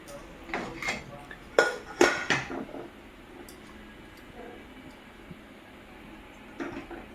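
A pot of boiled potatoes is lifted off the stove with a few close metallic clanks and knocks, then a quieter stretch of faint rattling and light handling noise before one last soft clatter.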